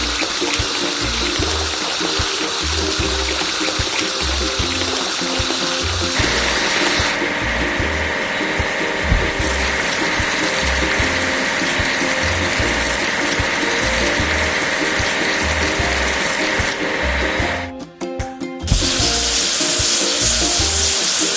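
Water sprays and splashes over a toy earthmover as it is washed, a loud, steady hissing rush with gurgling underneath and a brief break near the end.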